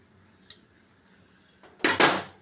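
A bowl is set down inside a pressure cooker: a small tap, then a quiet pause, then two close metallic clunks and a scrape as the bowl settles against the pot.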